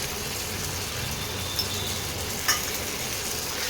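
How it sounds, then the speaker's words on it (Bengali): Masala and tomato paste fry in a pan with a steady, close sizzle, broken by a couple of light utensil scrapes as the mixture is stirred. "এবারে মশলাটাকে ভালো করে কষাতে হবে"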